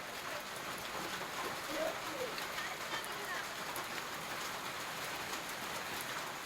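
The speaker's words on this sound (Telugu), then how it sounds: "ఇక పెద్దపల్లి జిల్లాలో కూడా భారీ వర్షం కురిసింది." Heavy rain in Peddapalli district, Telangana, falls as a dense, unbroken wash of hiss and patter that stays steady and fairly loud throughout.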